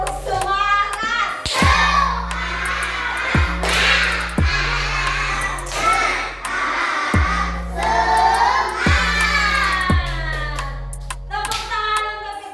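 Children in a classroom perform a rhythmic clapping chant, loud patterned hand claps in repeating bursts while young voices chant along in unison.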